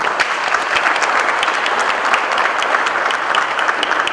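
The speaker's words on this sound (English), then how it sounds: "Chow another big round of applause." An opening-night audience in Baltimore gives Mr. Chow another round of applause, a thick, continuous wash of many hands clapping at a steady, moderately loud level with no talking.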